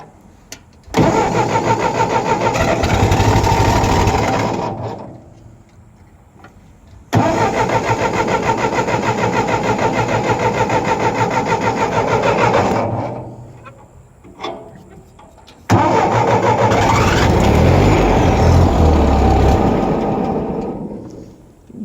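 Small engine on a cheap refurbished tractor cranking and catching, running loudly three separate times with short pauses between, the last run rougher and fluttering from a carburetor needing adjustment.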